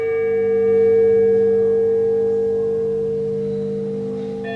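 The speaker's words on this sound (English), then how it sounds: "hung with 12 CD players, which collectively create a sound field of sustained chiming" Sustained bell-like chiming from an ambient installation, played by twelve CD players; steady overlapping tones ring together in a continuous, even drone with no talk.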